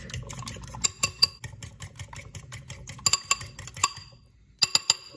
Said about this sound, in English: and whisk.